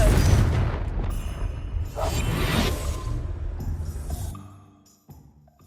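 A Confringo fire spell explodes in the Hogwarts Legacy video game near a cellar: a loud booming blast with a rushing whoosh that rolls on for a few seconds, then fades into quiet game ambience.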